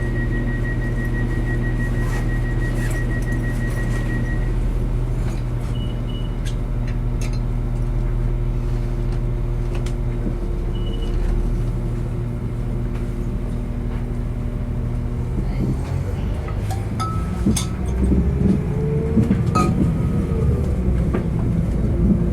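A train pulls out of Halifax station as a steady low rumble and hum, with engine tones shifting and rising toward the end, loud and continuous throughout.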